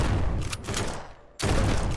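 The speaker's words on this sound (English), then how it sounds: "this is a shotgun to the head" Shotgun blasts in a zombie survival video game, loud booming shots with heavy low-end rumble, a short quiet gap, then another powerful blast close up.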